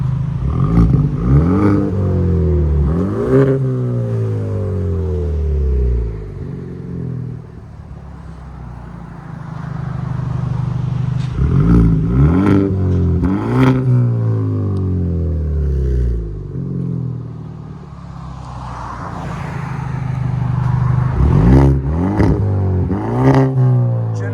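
Genesis G70 2.0L turbo four-cylinder with a Vibrant bottle resonator in place of the muffler, revved hard in three separate bursts, each climbing sharply then falling back to a throaty idle; loud and close, no talking.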